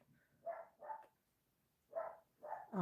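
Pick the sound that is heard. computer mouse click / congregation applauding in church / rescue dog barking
rescue dog barking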